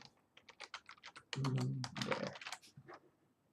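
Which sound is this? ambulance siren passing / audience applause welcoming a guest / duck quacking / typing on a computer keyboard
typing on a computer keyboard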